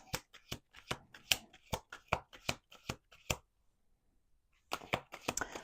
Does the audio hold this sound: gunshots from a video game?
no